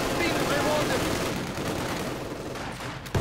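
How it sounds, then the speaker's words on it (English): Continuous light machine gun fire rattles in a Company of Heroes 2 battle, a dense, unbroken crackle of rapid shots with a layered wash of battlefield gunfire behind it. "More troops here getting gunned down by the light machine guns."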